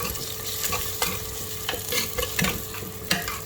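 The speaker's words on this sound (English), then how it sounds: "When the cumin starts to sizzle, I am going to add in my onion." Steady sizzling and crackling of onion frying in hot oil with cumin, close up, with occasional stirring scrapes.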